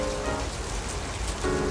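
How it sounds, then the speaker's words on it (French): Steady rain pours down around a wash-house boat in May, a dense, even hiss that stays close and loud throughout, with no voices over it. "Là, il pleut, hein."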